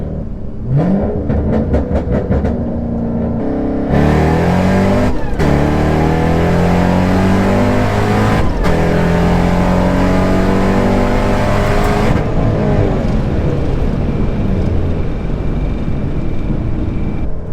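An 800 rear-wheel-horsepower Mustang pulls hard in a roll race, its engine roaring loud and close as it revs up through several gear changes with brief dips between shifts, then fading toward the end.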